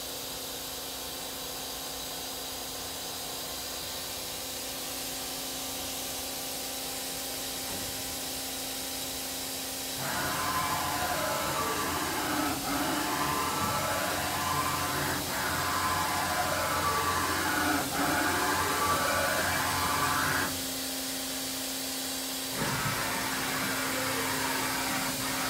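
A 2004 Daewoo DHP 400 runs with a steady hissing hum. Its sound swells into a louder, wavering whine for about ten seconds, then settles back, with no voices.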